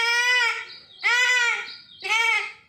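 A boy imitates a goat bleating with his voice: three loud, wavering, nasal bleats in a row, each about a second long and separated by short gaps, close to the microphone.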